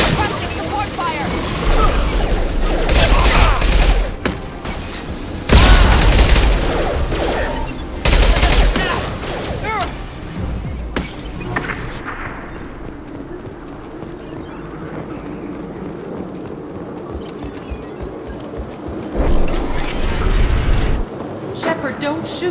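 Gunfire and explosions in the video game Mass Effect, loud repeated bursts of shooting and heavy booms in a dense battle mix, with game characters speaking over parts of the action.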